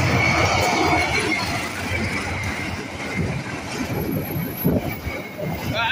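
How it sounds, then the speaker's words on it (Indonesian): A passenger train pulled by a Pintage locomotive rolls past on a rail line, a loud steady rumble with wheel noise and faint squeals, while a voice speaks over it. "pakai lokomotif Pintage"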